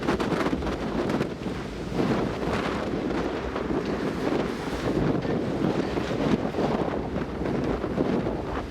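Storm wind roars and buffets a microphone on a boat during Storm Dennis, a loud, continuous rushing gale with constant gusting turbulence and no pauses.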